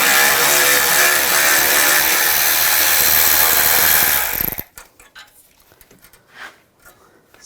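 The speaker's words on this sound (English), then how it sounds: "Use a 10mm socket," A power ratchet with a 10mm socket spins out bracket bolts on a 2014-2020 Nissan Rogue front bumper, a loud continuous whirring that stops abruptly, followed by faint handling clicks and rustling.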